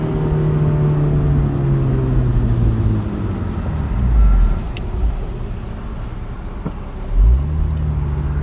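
A 2003 Honda S2000 with 19k miles, nearly stock, heard from inside the cabin as its engine hums steadily at cruise, with rising revs and brief surges around the gear changes.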